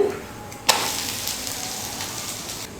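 An egg dosa fries on a pan just after being flipped, a sharp slap as it lands followed by a steady, close hissing sizzle that continues evenly to the end.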